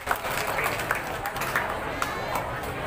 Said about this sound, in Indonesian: Tepuk tangan untuk ketiga paslon